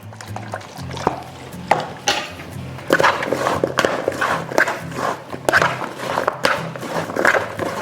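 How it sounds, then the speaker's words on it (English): Fruit is tossed with lemon juice in a bowl, producing close, irregular clattering and wet shuffling bursts that keep repeating without talk. "we're just gonna toss this in a little bit of lemon juice"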